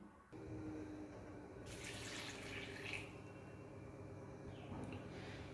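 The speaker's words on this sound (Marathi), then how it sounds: "आणि आता यामध्ये मी नारळाचं पाणी घालणार आहे थोडंसं" Coconut water poured into a bowl of fruit pulp with sugar, a faint steady trickle and splash running continuously in a quiet kitchen, with a brief brighter burst of pouring midway.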